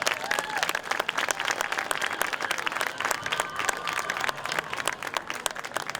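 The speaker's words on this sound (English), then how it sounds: "Let's give all these band members a round of applause" A crowd in the stands at a high school football game applauds the band members, a loud, continuous clatter of many hands clapping in the open air.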